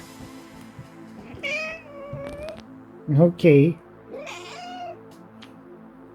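A pet cat meows several times nearby, with a drawn-out cry and then two loud, sharp meows in quick succession, among soft indoor sounds and a brief spoken word.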